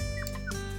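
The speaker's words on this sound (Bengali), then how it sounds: "কিমা কিরকম ডাকে, পাখির মতন ডাকছে" A roughly one-month-old puppy's high, thin whimpers: a few short chirpy cries close by, almost birdlike, over a low steady background hum.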